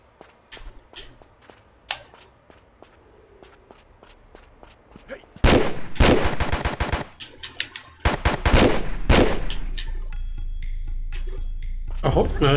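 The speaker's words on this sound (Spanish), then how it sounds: "Mi arma mata a todo el mundo de dos tiros," Gunfire in Tomb Raider 3 on PlayStation, sparse clicks and footsteps giving way to loud rapid bursts of shots and sharp single reports, followed by a lingering rumbling tail.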